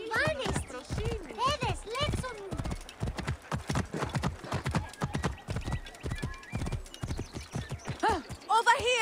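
Horse hooves clip-clopping in the Assassin's Creed Origins video game, a run of quick hoof beats with neighs and whinnies, close and clear, interspersed with voices talking.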